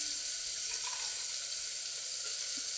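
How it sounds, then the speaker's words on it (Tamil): Onions, ginger-garlic paste and fennel seeds sautéing in a pan for a peas and potato gravy, a steady soft sizzle with no talking. "வெங்காயத்தை போட்டு வணக்கணும்"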